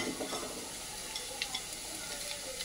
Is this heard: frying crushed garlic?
yes